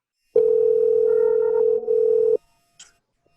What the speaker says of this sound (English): She pulls out her cell phone. She calls her friend Angela.